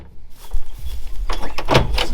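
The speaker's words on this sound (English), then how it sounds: "The door still opens, which is good" A car door on a damaged Holden Monaro opening, a short mechanical clunk and creak of the latch and hinges heard close and loud, with no talk.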